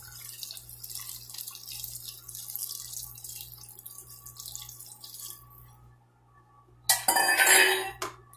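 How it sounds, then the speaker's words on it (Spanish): Water is poured over cooked wheat in a pot of onion dressing, a soft continuous hiss and trickle followed by a louder, brief splashing pour near the end, close and without any talk. "Ahí está, lo vamos a cubrir con agua."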